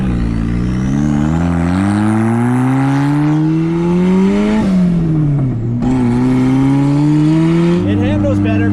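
A Mazda Miata off-road build on freshly fitted custom tie rods drives off close by, its engine revving in rising, shifting sweeps with gear changes, loud and steady throughout.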